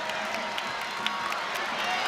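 Crowd cheering and applauding at a Louisville vs. Virginia Tech women's college basketball game, a steady roar of arena noise with scattered claps and whoops running through the whole moment.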